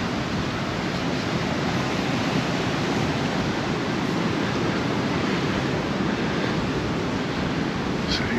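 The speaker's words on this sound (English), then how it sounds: "Wind, It's a bit of sea spray" Strong wind and breaking waves at Playa de Palma beach in Mallorca, a dense, constant roar of surf and gusting air buffeting the microphone, loud and unbroken throughout.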